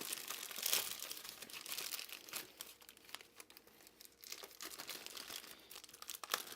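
Packaging around a Continental Grand Prix 4 Season bicycle tire, wrapped in plenty of tape, is pulled and torn open, giving close, continuous crinkling and crackling with sharper tearing bursts.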